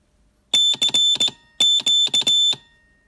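A piezoelectric buzzer sounds a piercing high-pitched tone in two sets of rapid pulses, loud and close, with quiet between the groups.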